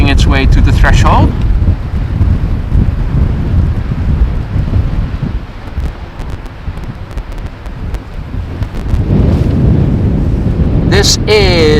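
KLM Embraer jet taking off from runway 36L at Amsterdam Schiphol Airport, a loud, rumbling roar that builds and then eases away, with wind buffeting the microphone and brief voices at the start and end.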